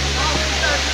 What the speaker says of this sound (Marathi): खूप लांब असा वॉटरफॉल आहे आणि या वॉटरफॉलचे नाव दासखडका असे प्रकाशित आहे.